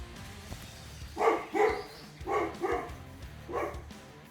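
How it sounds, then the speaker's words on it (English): A dog barks five times in quick pairs, moderately loud and somewhat distant, against a quiet background. "Excuse the dog in the background."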